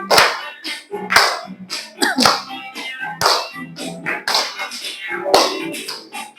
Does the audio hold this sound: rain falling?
no